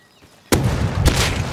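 A sudden loud gunshot blast from the survival video game Rust, followed by a second crack half a second later, both booming over a noisy, sustained background rumble.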